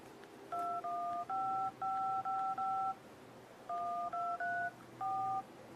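Touch-tone dialing beeps from a smartphone's dialer app, about ten short steady two-tone keypresses in two quick bursts separated by a brief pause, clear and close over a faint hum.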